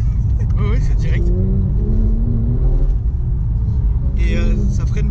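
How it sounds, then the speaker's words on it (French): A Porsche 991 GT3 sports car pulls hard under acceleration, a deep engine rumble rising beneath French conversation from inside the cabin. "Là, je veux bien essayer d'accélérer"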